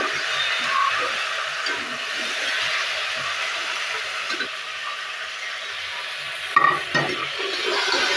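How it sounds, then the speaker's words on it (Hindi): Onions browning with a pinch of salt in a pressure cooker sizzle and fry steadily and close, with a few stirring scrapes near the end and no talk. "प्याज को हम ब्राउन करने के लिए"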